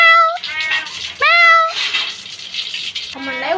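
A house cat sits nearby and answers with three short, rising meows spread across a few seconds, close and fairly loud. A person imitates the meow to draw it out, with faint background noise between calls.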